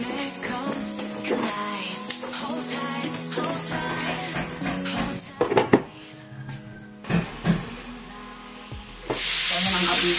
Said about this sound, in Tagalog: I-brown natin siya bago natin ilagay ang ating garlic at onion